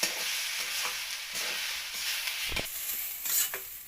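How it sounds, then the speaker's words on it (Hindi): Rice roasting in ghee for kheer, stirred steadily in a pot on a clay chulha, gives a continuous soft frying sizzle with scraping stir strokes, one sharper knock near the end, and no voices. "घी में चावल अच्छे से भूनने चाहिए"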